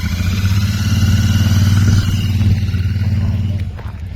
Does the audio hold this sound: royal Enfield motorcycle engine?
yes